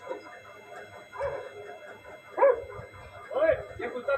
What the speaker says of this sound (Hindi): ये कुत्ता कैसे अंदर आया?